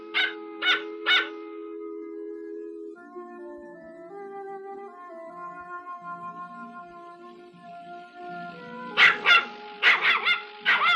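A small dog yips in quick bursts, then a sustained tonal stretch like a melody, before sharp high barks return near the end, close and clear.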